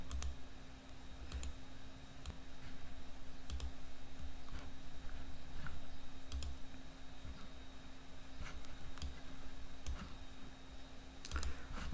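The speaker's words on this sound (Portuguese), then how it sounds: "Clicando nela" Sharp mouse clicks at irregular intervals during work in an Excel spreadsheet dialog, light and close over a quiet room hum, with no speech.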